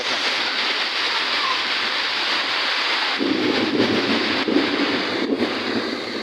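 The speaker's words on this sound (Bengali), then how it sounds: "দেখেন আকাশে কীরকম গর্জন করতেছে, দেখেন কীরকম বৃষ্টি হচ্ছে।" A steady roar of heavy rain fills the whole stretch, with a deeper rumble swelling in the second half like rolling thunder.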